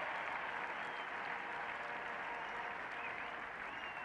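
A cricket crowd at a 1977 Ashes Test between England and Australia applauds a boundary and a fifty partnership, a broad, distant wash of clapping that stays steady and even, heard through an old broadcast.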